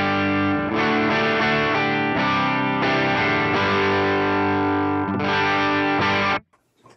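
Electric guitar played through a Fender Pugilist distortion pedal, recorded direct, gives a loud, sustained, saturated run of chords and notes in a classic 70s overdrive tone for about six seconds, then cuts off sharply into near silence.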